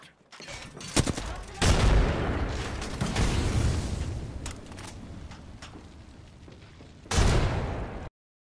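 A frag grenade explodes in the Apex Legends video game, a heavy booming blast followed by a long rumbling tail, with a second blast near the end amid gunfire.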